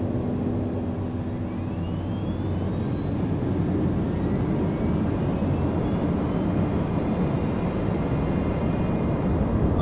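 A Boeing 767-300 jet lands in the game Flight Simulator X. Its engines roar loud and steady with a deep rumble and a slowly rising whine, and the sound holds for about ten seconds without speech.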